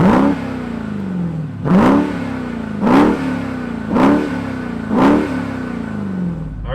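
A Dodge Durango SRT Hellcat engine revs hard five times in a steady rhythm, each blip rising sharply and falling back to a loud, rumbling idle close by.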